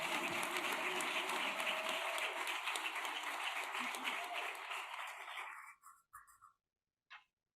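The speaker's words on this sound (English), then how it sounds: "let's give Pamela a round of applause and welcome her to the stage." Audience applause welcomes a speaker onto the stage at an evening event on Black history and disability rights, a dense steady wash of clapping for about five seconds that fades out into a few scattered last claps.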